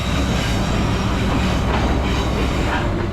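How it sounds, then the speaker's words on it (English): An 1800-metre freight train rolling through Newport station on the Werribee line, a loud, steady rumble of wagons with faint rhythmic wheel clatter, close by and continuous, with no talking. "until a 1800 metre long freight train rolls through"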